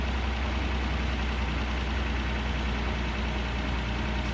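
A Nissan R34 GT-T engine with forged pistons and solid followers idles steadily and loudly close by, a continuous low rumble with a constant mechanical hum and no revving.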